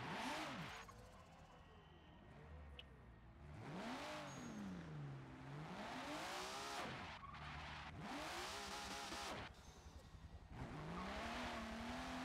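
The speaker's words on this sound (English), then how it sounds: "Here we have obviously I-10 warming his tyres up" A pro-am drift car warms its tyres before a qualifying run, its engine revving hard and wailing up and down in repeated swoops alongside tyre squeal and screech, fairly distant.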